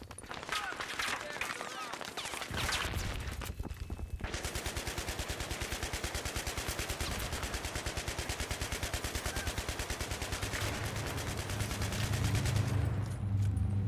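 Video game gunfire in long rapid automatic bursts, a steady fast rattle of shots that runs almost unbroken for most of the stretch after a short opening pause, loud and close.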